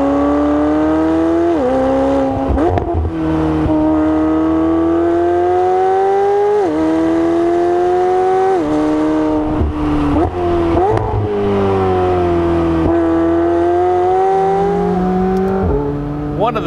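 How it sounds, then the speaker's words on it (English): A 2020 McLaren 720S Spider engine revs hard and climbs through gears, its high-pitched V8 wail rising repeatedly with quick drops at each shift, loud and close. "One of the things I love about McLaren V8s is that they sound like more like a superbike"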